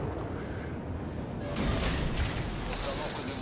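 Naval gunfire from a warship in World of Warships, a dense rumbling roar of cannon blasts with a heavier boom partway through, loud and continuous with a voice faintly underneath.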